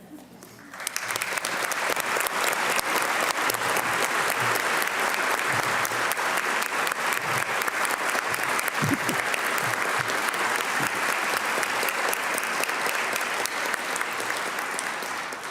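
An audience in a legislative chamber at a governor's 2022 State of the State address breaks into steady, sustained applause that holds loud and even for about fifteen seconds.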